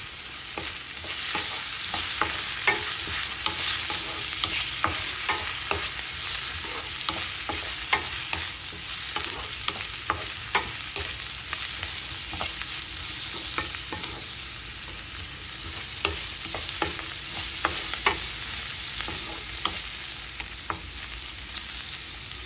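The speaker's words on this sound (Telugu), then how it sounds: "ఉల్లిపాయ వేగిపోయిందండి." Onions sizzle steadily in a pan for mushroom curry while a spoon scrapes and stirs them in frequent irregular clicks, close and continuous with no talking.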